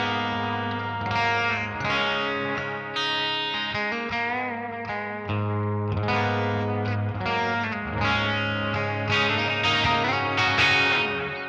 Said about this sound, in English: starts off with a big reverb and a big delay